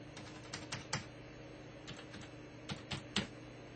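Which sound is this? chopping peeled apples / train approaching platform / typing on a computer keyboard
typing on a computer keyboard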